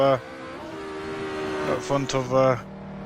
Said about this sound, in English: Enough of that engine noise.